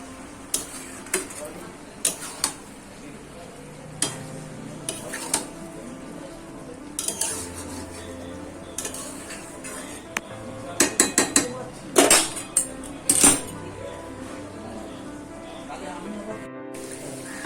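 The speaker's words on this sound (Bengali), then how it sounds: "এবার মিষ্টিটা দিয়ে আমি নাড়াচাড়া করে দেব।" Malabar spinach curry is stirred in a pan, with repeated metallic clanks and scrapes of a spoon against the pan in short bursts over a low background.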